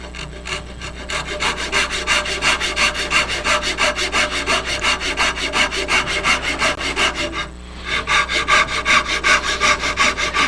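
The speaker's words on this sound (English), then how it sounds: "The silky is more designed for cross cut than the dovetail saw, but it works, it gets the job done." A Silky pull saw cross-cutting wood by hand in steady, rhythmic strokes, loud and close, with one short pause before the sawing resumes.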